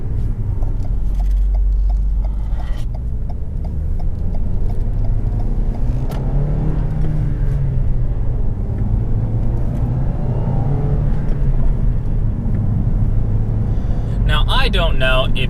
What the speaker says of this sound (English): this engine for some reason does sound a little bit sweeter when paired with the manual